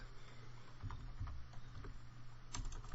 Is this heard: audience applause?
no